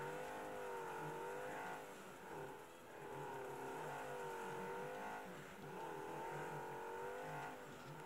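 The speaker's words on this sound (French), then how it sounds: "Vous voyez bien que je suis bien en drift pratiquement tout le temps" Video game race car drifting almost nonstop, its engine droning loud and steady with wavering pitch as it slides through corners, with a few brief dips in revs; no talking.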